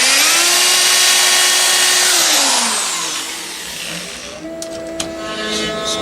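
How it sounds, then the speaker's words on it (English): A loud power drill whines at high speed for a couple of seconds, then winds down and stops, leaving faint clatter and a lower hum. "So I'm done with the drill."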